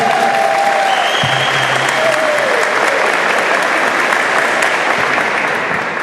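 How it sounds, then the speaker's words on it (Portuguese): Dense, sustained applause from an audience at a university rector candidates' debate, loud and steady throughout with brief overlapping voices. "mais uma vez parabenizar a Francine com uma grande salva de palmas"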